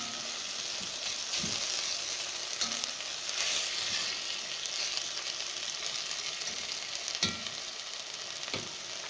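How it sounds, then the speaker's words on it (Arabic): Onion softening in a hot pan with steady, dense frying sizzle, close and fairly loud, with a few faint clinks of a utensil scattered through. "هبتدي ان انا انزل بالبصلة اللي معايا، وهبتدي بس اقبل البصلة صدمة بسيطة جدا لحد ما البصلة تدبل معايا بالشكل ده"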